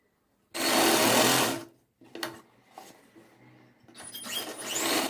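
A sewing machine stitches the shoulder seams of a four-tuck lined blouse. It runs in one loud, steady burst of about a second, followed by shorter, fainter bursts and handling noise.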